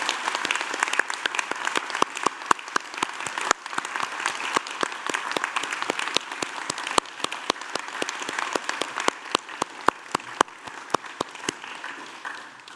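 A graduation ceremony audience at the University of Newcastle gives sustained, dense applause for the graduates, steady and full throughout with sharp individual claps standing out.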